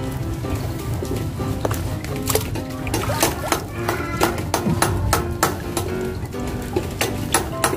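Steady rain patters and splashes hard on a surface outdoors during oyster shucking, with a dense hiss broken by frequent sharp knocks and clacks of shells.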